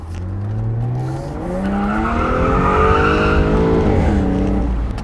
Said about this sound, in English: You hear the blower up front, and you hear the exhaust out back